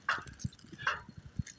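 Dog of a termite bloodline from a kennel making soft whimpers and short yips, a few brief quiet cries spaced about a second apart, fairly close.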